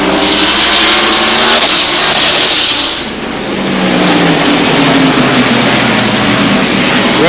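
NASCAR stock cars racing in the 1991 First Union 400 make a loud, continuous engine roar that dips briefly as a car passes and then swells again, with no voices.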